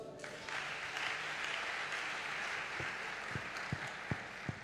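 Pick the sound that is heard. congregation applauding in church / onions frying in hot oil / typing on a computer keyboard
congregation applauding in church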